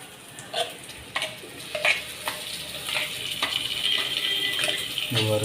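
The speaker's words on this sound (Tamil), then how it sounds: "இது வதங்கிக்கிட்டே இருக்கட்டும்." Mutton curry sautés in a clay pot, a close, steady sizzle broken by repeated scraping strokes of a spoon stirring the masala.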